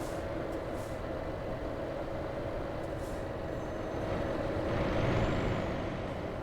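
Heavy truck hauling an industrial condenser in Euro Truck Simulator 2, its engine rumbling low and steady with a faint hiss of air brakes, swelling slightly louder near the end, no talking over it.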